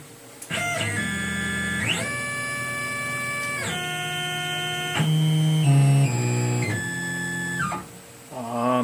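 A Tormach CNC mill with an end mill whines through a series of steady, pitched motor tones that step up and down between moves, loud and close, ending in a short rough burst.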